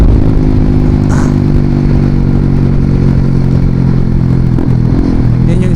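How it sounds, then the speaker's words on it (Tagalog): A Honda CBR motorcycle engine runs very loud and close, a steady dense mechanical roar with clattering texture and a brief rise in pitch. "Yan yung isa sa mga legendaring motor dito sa amin. CBR version 2."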